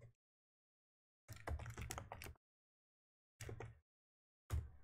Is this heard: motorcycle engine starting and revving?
no